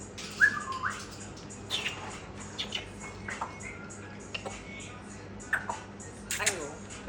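An African grey parrot gives a series of scattered whistles, chirps and clicks at close range, with bursts spread through the clip.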